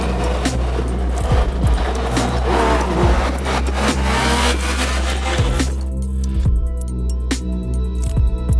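Loud engine of a Yamaha Niken three-wheeled motorcycle revving hard during a wheelie attempt outdoors, with rising and falling revs and gear-change bursts before the sound cuts back near the end.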